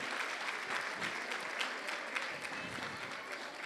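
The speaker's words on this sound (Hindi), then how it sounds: "कृपया जोर से तालियों से इन सभी वैष्णवों का स्वागत करिए।" An audience claps loudly to welcome devotees at a satsang gathering, a dense, steady burst of applause with a voice faintly audible beneath it.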